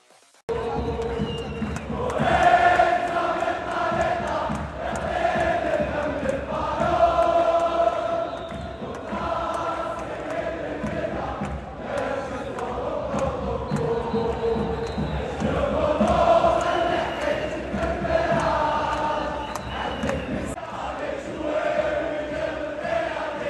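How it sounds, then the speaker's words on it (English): Wydad football supporters in a Moroccan stadium chant and roar in rhythmic surges, a dense continuous wall of massed voices swelling and easing over the whole span. "Listen to some of this crowd noise."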